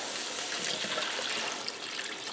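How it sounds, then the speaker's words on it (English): Three cups of water pour steadily onto browned, drained ground beef in a skillet, a continuous close splashing hiss with no pauses. "Now I'm going to add 3 cups of water to that."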